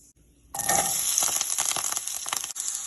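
Mustard seeds, curry leaves and chopped onions hit hot oil with a sudden loud burst of sizzling after brief quiet, then crackle and pop steadily with stirring clinks nearby.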